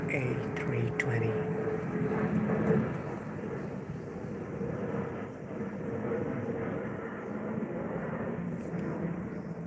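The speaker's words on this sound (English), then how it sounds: "The good old A320." An Airbus A320 flying over London gives a steady, moderately distant engine roar and hiss that swells slightly and then holds, with faint voices underneath.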